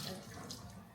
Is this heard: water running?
yes